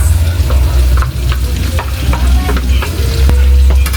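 Potatoes added to pork picadillo frying in a pan, a loud, continuous sizzle with scattered clicks and scrapes of stirring, close up and without talk.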